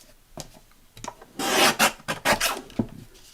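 Scissors snip and rasp through paper while excess is trimmed from a scored sheet for a vintage pink junk journal, with a few short cuts and rustling strokes, close up and without talk.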